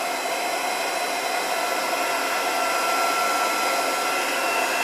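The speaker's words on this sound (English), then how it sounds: "having heated up my heat tool, apologies for the noise." A heat tool blows a steady, loud rush of hot air over curling card, a constant hissing whoosh with no pauses.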